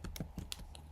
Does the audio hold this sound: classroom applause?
no